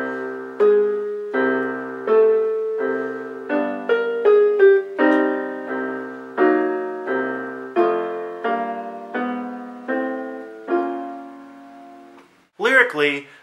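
Piano playing part of the B section of a song, slow sustained chords struck one after another with gentle decays, clear and close, ending with a brief rustle.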